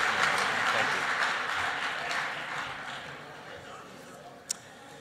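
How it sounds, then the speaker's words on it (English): Audience applause at an enterprise blockchain awards ceremony, a sustained wash of clapping from a room of people that gradually fades, ending with a single sharp click. "give a big round of applause and congratulations to Power Ledger"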